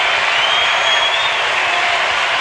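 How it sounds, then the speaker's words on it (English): A hockey crowd in East Lansing roars steadily as Michigan State fans rise to their feet against Penn State, a dense, unbroken wash of cheering and clapping with no clear pauses. "Crowd now goes to their feet."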